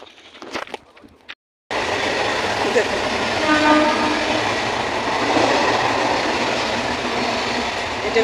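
A train leaving Sealdah station rumbles past close by, a loud, steady roar with rattling wheels that starts abruptly after a brief quiet moment with some faint knocks.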